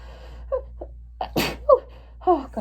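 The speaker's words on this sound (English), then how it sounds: "I'm going to sneeze." A single close, loud human sneeze bursts out in the middle, with short breathy intakes and vocal gasps around it.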